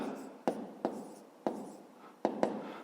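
A pen scratches out an answer on paper by hand, each stroke beginning with a small tap and then fading into a soft scrape, repeated about six times up close and quietly.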